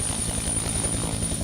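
A helicopter's rotor and engine give a steady, close, throbbing drone with a fast, regular beat, and no voices are heard.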